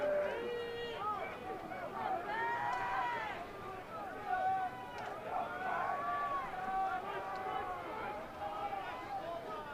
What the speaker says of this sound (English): You can hear the crowd getting behind the RPI defense.